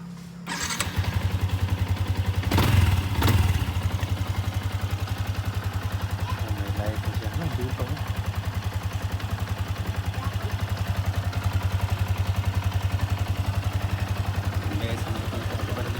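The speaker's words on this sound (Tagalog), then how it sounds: "Then, try natin i-on ang motor." A Sniper 150 FI motorcycle engine cranks and catches, then settles into a loud, steady idle that rumbles on unchanged for a long stretch.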